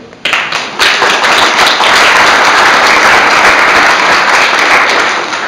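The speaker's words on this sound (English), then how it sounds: "you guys deserve a round of applause for that" Audience applause from a crowd gathered at a Lyric Theatre grant presentation, dense steady clapping that swells in quickly and holds loud and continuous before tapering slightly at the end.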